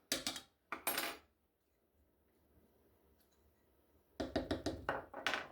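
A fork beats eggs in a bowl for a blueberry cheesecake mixture, with close, sharp clinking strokes in quick bursts: a short pair at the start, a quiet pause, then a longer rapid run of metallic taps against the bowl.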